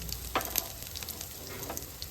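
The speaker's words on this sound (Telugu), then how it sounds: "నూనె కాగింది, ఇప్పుడు జీలకర్ర ఆవాలు వేసుకుందాం" Cumin and mustard seeds drop into hot oil for tempering and sizzle faintly, with a few small pops and a soft scrape over a steady low hiss.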